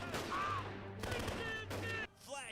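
Movie gunfire from full automatic weapons crackles in dense rapid bursts, loud and echoing, with a short pause between volleys and a brief tail of sound at the end.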